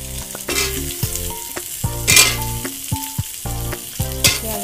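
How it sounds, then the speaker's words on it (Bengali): Potatoes frying and being stirred in a pan after onions have browned, with steady sizzling and scraping stir strokes alongside clear tonal music running throughout. "আলুগুলো দিয়ে আমি এবারে ভালো করে একটু ভেজে নেবো, নেড়ে চেড়ে নেবো কিছুক্ষণ"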